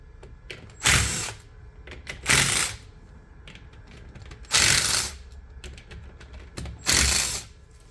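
A ratchet backs out manifold bolts on a GX5 pump: four separate bursts of close, loud clicking ratcheting, with quiet pauses between them.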